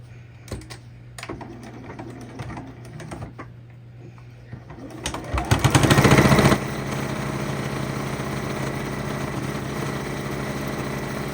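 A sewing machine stitches down striped binding on a quilt, with scattered handling clicks first, then a short, loud, fast run of stitching that settles into a steady motor hum.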